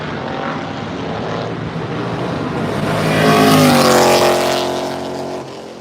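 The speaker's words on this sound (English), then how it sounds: "Here comes a GTO." A GTO car drives past at the Monterey auction, its engine note swelling to a loud peak as it nears and then easing away, heard alone without voices.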